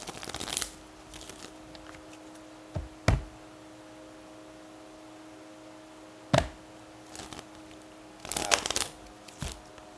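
Tarot cards are shuffled in quick papery riffles, several separate bursts with quiet gaps between them, close by and with no talking.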